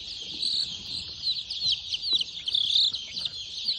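Young chicks in a brooding pen, six days old, peep in a dense, continuous high chorus of overlapping chirps at close range, steady throughout with no talking.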